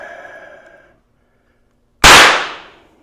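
A pistol primer on a SIG P320 goes off during a striker safety test, one sharp, loud crack near two seconds that rings briefly and fades, after a short stretch of quiet.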